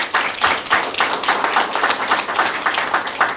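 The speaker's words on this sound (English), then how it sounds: "Give a round of applause for Scott Gardner." Audience applause for Scott Gardner at a book launch, sounding as a loose, rhythmic patter of hand claps from a modest crowd, close and fairly loud, steady for a few seconds with no talking over it.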